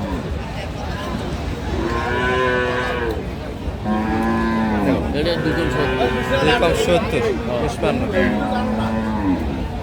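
Cows at a cattle market let out several long, loud moos in a row, close by, while people talk and haggle over prices underneath.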